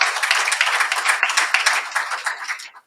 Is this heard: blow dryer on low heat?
no